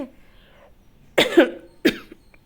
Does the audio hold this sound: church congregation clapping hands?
no